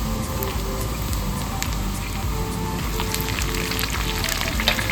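Slit green chillies dropped into hot oil with chopped garlic and ginger, a loud, dense, continuous sizzle and crackle of frying close up, with scattered sharp pops.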